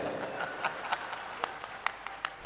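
A large crowd at a religious gathering claps loudly, a dense continuous patter of applause with sharper bursts standing out, heard alone without talk.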